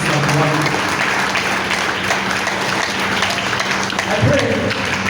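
Audience applause at a gala night: dense, steady clapping fills the whole stretch at close, loud level, with voices mixed in underneath.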